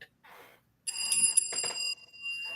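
A telephone rings in a radio sports-show studio with a bright, electronic warble: one short faint chirp, then a louder sustained ring lasting about a second, with some talk faintly beneath.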